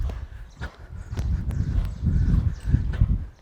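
A horse moving through a barrel racing arena, its hoofbeats a steady, close run of dull thuds over a continuous low rumble of movement on the ground.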